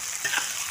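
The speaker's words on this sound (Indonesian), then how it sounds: "Kita aduk" Eggplant and salted fish being stir-fried in a pan, with a brief steady sizzle and a soft scrape of stirring, close and short.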